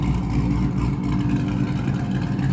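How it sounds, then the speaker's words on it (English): A Corvette Z06 idles and burbles with exhaust valves wide open, a loud, deep exhaust rumble, steady and close, with no talking. "you can hear the exhaust valves are wide open, super loud"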